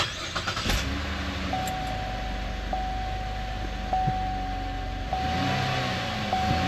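Car engine running steadily after a makeshift exhaust repair using a covered leak around the flex pipe, a continuous low rumble with a faint high whine and a few soft knocks, close by and with no one talking.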